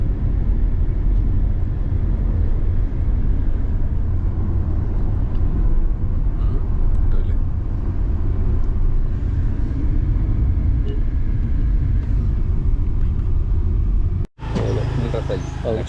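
A Tata Nexon driving along, with a steady, loud low road-and-engine rumble heard from inside the car that holds for about fourteen seconds, then cuts off abruptly into a brighter, different sound.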